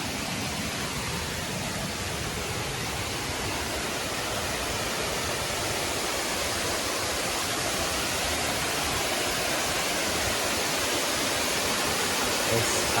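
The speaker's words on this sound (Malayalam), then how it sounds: "അടിപൊളി വെള്ളച്ചാട്ടം" Punnayar waterfall in Idukki, a steady, loud, broadband roar of falling water heard from nearby, unbroken throughout with no other sounds standing out.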